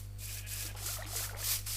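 Sheep being shorn of wool in a video game gives off brief soft rasping, scraping bursts over a steady low electronic hum, with no talking.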